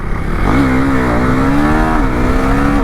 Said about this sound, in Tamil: ஓகே கைஸ், வண்டி ஓப்பன் பண்ணலாம்.